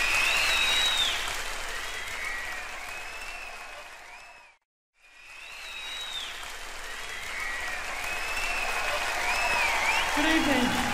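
A theatre concert crowd at the Dominion Theatre in London applauds and cheers as the band comes on stage, dense clapping and whistles that fade to silence briefly, then swell again to loud sustained applause.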